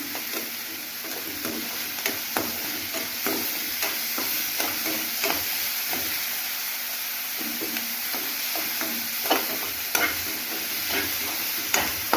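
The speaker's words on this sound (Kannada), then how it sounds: "ಸ್ವಲ್ಪ ಚೆನ್ನಾಗಿ ಫ್ರೈ ಆಗಬೇಕು ಒಗ್ಗರಣೆ." A spoon repeatedly scrapes and stirs a sizzling tempering of spices in a pan for vegetable saagu. Irregular clinks and scrapes sound over a steady frying hiss, close by, with no talking.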